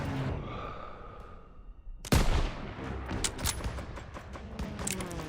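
Heavy gunfire from a World War II shooter, Call of Duty WW2, bursting in loud and sudden after a quieter stretch, then continuing as dense, crackling volleys with sharp shots over a rumbling battle bed.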